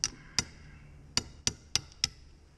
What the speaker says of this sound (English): I take a little chisel, put it right here, pop it up